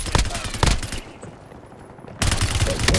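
Video game gunfire erupts in dense bursts, with rapid shots crackling loud and close, breaking off for a moment and then resuming.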